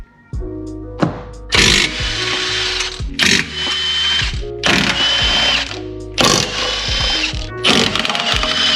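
An impact or power tool whirs in repeated loud bursts of about a second each while work is done on a drift car with a fully forged RB25 NEO engine, with clinks of tools between bursts.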